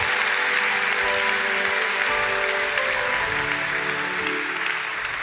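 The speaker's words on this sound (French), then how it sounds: "Acclame, acclame, acclame, acclame, acclame." A church congregation applauds in a sustained, dense wash of clapping that carries evenly throughout and eases slightly near the end.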